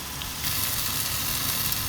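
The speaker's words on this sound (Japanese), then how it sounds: "トマト、玉ねぎ、カレーリーフを入れて" Steady, loud sizzling of tomato, onion and curry leaves frying in hot oil in a pot, a continuous crackling hiss with no voices.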